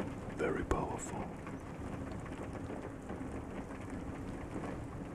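Steady rain falls in a soft, even hiss throughout, with a few brief knocks near the start and a faint voice underneath.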